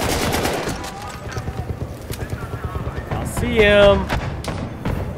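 A gunshot from a rifle in Battlefield 1, sniping an enemy, sounding among other scattered game shots and thuds while someone talks over the action.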